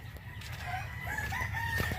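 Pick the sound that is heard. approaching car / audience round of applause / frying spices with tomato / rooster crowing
rooster crowing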